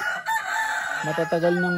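Chickens clucking among a flock of escaped hens and black chickens, with a rooster's harmonic crow rising clearly in the second half, close and fairly loud.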